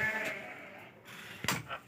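Sheep and three-month-old lambs bleating in a barn, several overlapping calls, some drawn out and some short, heard at moderate distance over faint background noise.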